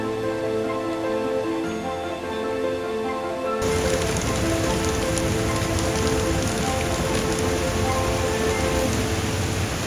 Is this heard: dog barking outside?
no